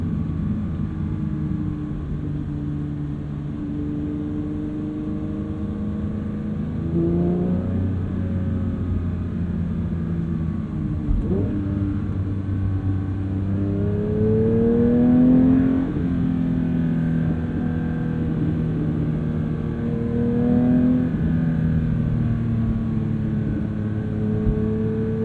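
Porsche 992 911 GT3 with a manual gearbox driving hard: a continuous loud engine drone from inside the car, rising through repeated revving climbs toward high RPM with dips between gear changes, no voices.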